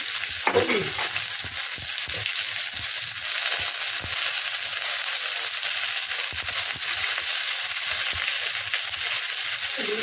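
Pointed gourd and pumpkin pieces fry with salt for a water spinach dish. A loud, even sizzle runs the whole time, broken by repeated spatula scrapes and clicks against the pan.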